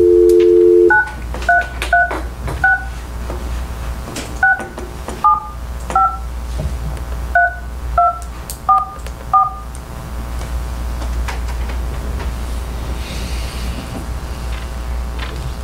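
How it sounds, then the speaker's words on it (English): Telephone dialing tones as a call is placed during a commissioners meeting, starting with a brief dial tone followed by a string of short touch-tone beeps in an uneven rhythm over a low background hum. "now I will try to call Miss Donna Van Hook"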